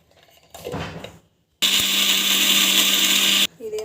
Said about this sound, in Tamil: ஸோ எல்லாத்தையும் போட்டுட்டு அரைச்சிக்கலாம்.